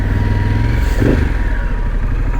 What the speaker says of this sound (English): riding with Carlos today. We just adjusted his little Honda Shadow 250